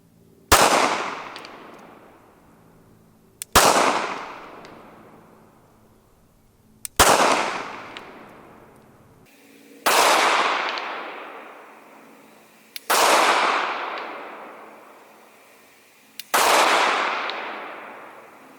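Six Glock 17 pistol shots firing Winchester 147 grain hollow point rounds, each a loud sharp crack followed by a long reverberating tail, spaced about three seconds apart.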